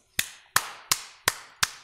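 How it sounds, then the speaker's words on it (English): Five sharp, evenly spaced hand claps ring out alone, each a crisp broadband smack with a short decay, loud and close. "Just had to give OP a round of applause here"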